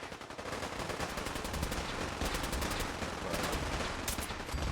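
Gunfire from the video game Fallout 4, a steady stream of rapid shots with sharp bursts layered over constant combat noise, loud throughout the clip with no talking.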